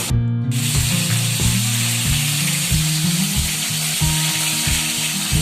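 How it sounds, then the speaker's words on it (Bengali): Fish head frying in hot oil, a steady loud sizzle and crackle that fills the whole stretch, with no talking over it. "আমার কিন্তু মাছ ভাজা পুরো রেডি মাছের মাথা পুরো ভাজা হয়ে গেছে"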